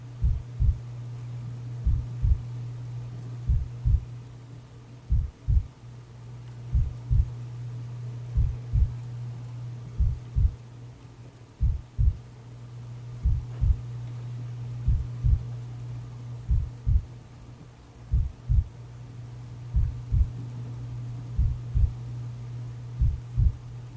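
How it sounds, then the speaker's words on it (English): A heartbeat sound effect in a film soundtrack throbs in deep paired thumps over a constant low hum, repeating steadily for a long stretch as the beats gradually come closer together. "The heartbeat throughout this whole part actually speeds up."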